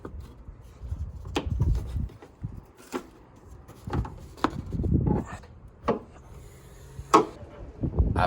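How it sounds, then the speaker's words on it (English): A car hood is opened outdoors in strong wind, giving a series of thumps, clunks and metallic clicks from the latch and hood over a low, gusty rumble. "first things first, let's open up the hood"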